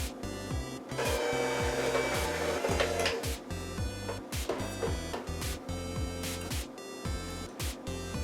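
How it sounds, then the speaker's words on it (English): Electric mixer on low speed whisking flour into a butter and egg cupcake batter, a steady motor whir with rhythmic scraping pulses as the beaters turn, broken by a few short pauses. "we're going to whisk this on low speed until it gets well combined"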